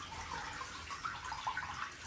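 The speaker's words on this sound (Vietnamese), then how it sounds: "bây giờ máy giặt đang xả nước" A Panasonic NA-FD10AR1 10.5 kg washing machine drains water after a wash cycle, giving a steady, moderately faint rushing and trickling flow that holds constant without pauses.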